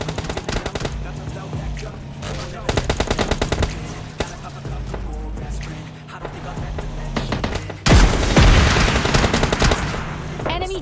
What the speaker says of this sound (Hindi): अब सामने से फायर आ रहा था